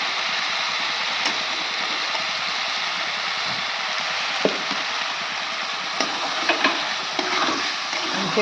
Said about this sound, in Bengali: এবার আমি মাংসটা কষিয়ে নিই হলুদ দিয়ে দিচ্ছি